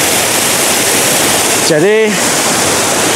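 Sekar Langit waterfall pouring in a steady, loud broadband roar throughout, with a brief spoken word from a man cutting in near the middle.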